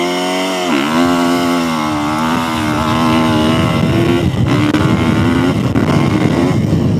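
A 2015 Kawasaki KX450F dirt bike launches hard from close by, its engine revving loud and rising in pitch as it pulls away, the harsh motocross exhaust note holding steady throughout with no talk.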